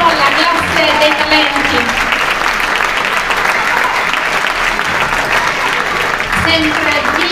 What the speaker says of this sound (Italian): Questo è l'applauso del pubblico di Ratalmuto, la classe dei talenti.